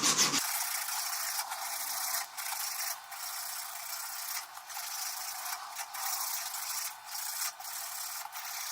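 Metal is rubbed by hand with 80 grit emery cloth in repeated back-and-forth strokes, a gritty hiss with short pauses between passes, close and moderately loud.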